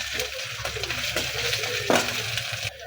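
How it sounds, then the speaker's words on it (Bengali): Ginger paste fries with onion and garlic in a pan, giving a steady soft sizzle broken by the scrape and clink of a spoon stirring. "আদা বাটা পেঁয়াজ রসুনের সাথে মিশিয়ে 1 মিনিট ভেজে নেব"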